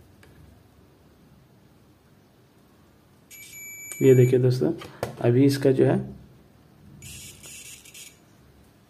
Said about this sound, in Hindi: ये देखिए बीप का साउंड आ रहा है